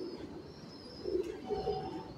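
A compact pigeon coos softly in short, low murmuring phrases, a few rising swells over faint steady background noise, no talking.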